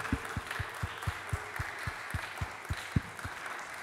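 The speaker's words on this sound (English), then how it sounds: "So can we all clap for them one more time" An audience at a UT Austin percussion chamber recital applauds the performers. A soft wash of clapping runs beneath steady, evenly spaced low thumps.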